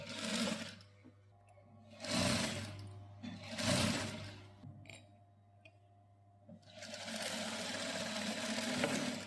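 Sewing machine stitching piping onto a blouse neckline, running in three short bursts and then one longer steady run, close and fairly loud with no talk over it.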